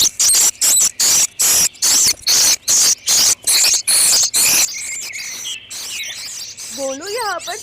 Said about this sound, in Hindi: चिड़िया जोर जोर से आवाज करने लगती है।